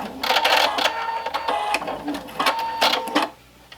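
A Husqvarna Viking Topaz 50 sewing machine working its thread cutter, a quick series of close mechanical whirs and clicks ending in a brief quiet moment.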